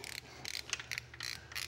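A torque wrench tightens nuts on a 283 small-block Chevy V8 being rebuilt for a C10 pickup, giving close, crisp ratcheting clicks in several quick runs with short pauses between them.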